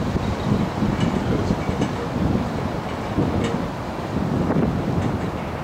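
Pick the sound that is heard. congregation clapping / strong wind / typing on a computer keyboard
strong wind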